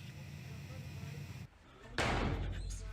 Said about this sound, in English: Throughout the clip, we can see slamming doors, sudden movement, and strange sounds.